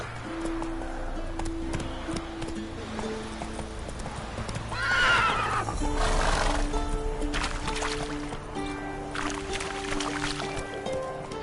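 In the video game The Witcher 3, a horse's hooves clip-clop in a steady rhythm as it gallops, and a loud whinny rises partway through, all heard close up without talk.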